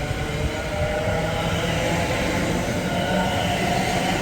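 A London Northwestern Railway service to Milton Keynes Central runs through Berkhamsted station, a close, loud, steady rumble of wheels and carriages with no talk over it.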